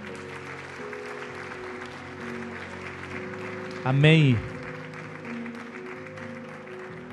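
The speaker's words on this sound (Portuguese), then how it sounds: "Uma salva de palmas para a honra e glória de Deus." A church congregation claps briefly under sustained keyboard tones in a Seventh-day Adventist service, with a single spoken word cutting through near the middle.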